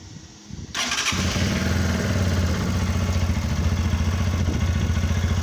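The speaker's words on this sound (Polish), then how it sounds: "bardziej chciałem Wam pokazać, jak pracuje silnik po regulacji zaworów" A Romet K 125 FI motorcycle, warm after a ride and freshly given a valve adjustment, starts with a brief crank and catches, then settles into a steady, even idle with a light mechanical clatter, loud and close.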